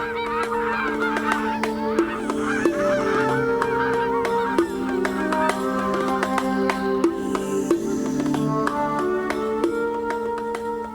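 Many geese honk continuously and loudly, their overlapping nasal calls forming a dense flock chorus with no speech.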